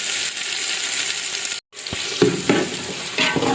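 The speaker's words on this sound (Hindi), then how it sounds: "प्याज को हम हल्के ब्राउन कर लेते हैं।" Onions fry in oil in a cooking pot, giving a steady bright sizzle broken by a brief silent gap, followed by soft scraping stirs and small bursts of crackle.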